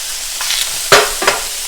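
Bacon frying in its own rendered fat in a pan, a close, steady sizzle broken by a couple of sharp scraping stirs.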